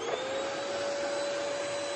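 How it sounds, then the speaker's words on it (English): A hoover vacuum cleaner runs in a garage workshop, a continuous loud motor whine with a steady pitched tone and no pauses. "And turn on the hoover."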